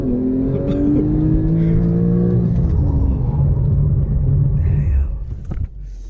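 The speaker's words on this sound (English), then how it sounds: "full gas, launch control activated, and off you go" A Porsche 911 of the 991.2 generation launches under launch control, its engine roaring loud and close with rising revs through gear changes before easing off near the end.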